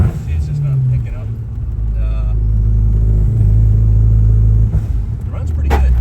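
A car engine at a Volkswagen car meet rumbles loudly and revs steadily nearby, with a sustained low drone throughout and people talking over it.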